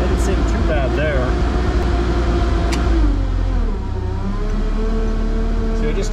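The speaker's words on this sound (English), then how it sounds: "See, I just turned the ignition off" A boom lift engine keeps running on after its ignition is switched off, a steady low rumbling drone with a continuous hum that dips slightly partway through, while a person talks over it.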